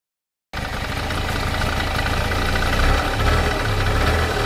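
A motorbike engine comes in abruptly after a half-second of silence and runs steadily and close, with a continuous low rumbling drone and no voices.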